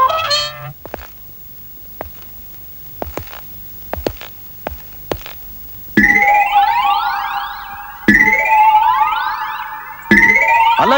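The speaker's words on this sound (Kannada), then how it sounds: "ನಿಮ್ ಫ್ಯಾಕ್ಟ್ರಿ ಸೈರನ್ ಅದು" A factory siren wails in repeated rising, sweeping blasts, each starting loud and climbing in pitch over about two seconds. A few short, sharp honking sounds come before it.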